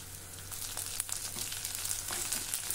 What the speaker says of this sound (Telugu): గుడ్లు వేగేంత సేపులో ఉల్లిపాయలు కూడా వేగిపోతాయండి